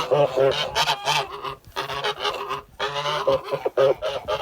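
A young goose honks repeatedly at close range, loud nasal calls coming in bursts with brief pauses between them.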